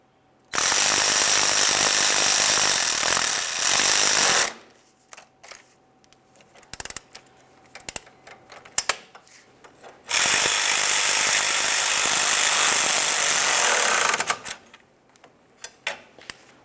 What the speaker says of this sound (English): Start in both of these mounting nuts, we'll snug them up.